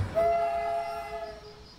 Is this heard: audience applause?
no